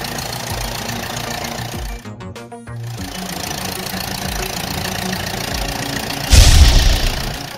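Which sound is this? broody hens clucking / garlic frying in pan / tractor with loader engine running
tractor with loader engine running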